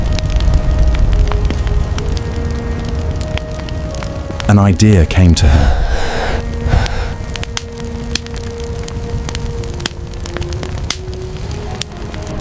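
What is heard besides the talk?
crackling campfire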